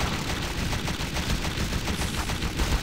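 Rapid, dense gunfire from SAS: Zombie Assault 4 rattles on continuously and loud, a steady automatic stream of shots with no pauses or talk.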